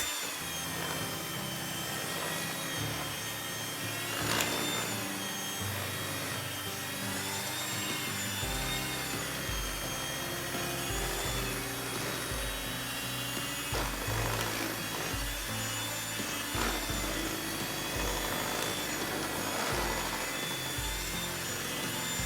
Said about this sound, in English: I'm using my old and trusted hand mixer